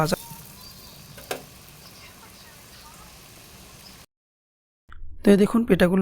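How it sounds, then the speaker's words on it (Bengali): Chicken puli pitha fry in hot oil in a wok, giving a soft, steady sizzle for about four seconds before a brief silence, after which a voice talks over the cooking. "তেলটা যখন মোটামুটি গরম হয়ে আসবে তখন পিঠাগুলো দিয়ে দিব"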